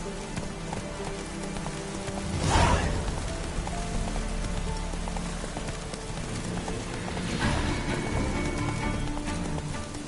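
The horse Roach running in The Witcher 3, a soft continuous patter of hooves under steady rain-like hiss, with a louder whoosh around the third second and another swell later.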